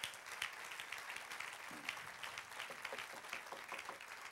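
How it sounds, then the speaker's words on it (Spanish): A church congregation applauds in praise during a Spanish-language sermon, steady crowd clapping that stays fairly soft and distant for several seconds, with a faint voice briefly audible beneath it. "Con un aplauso al Señor."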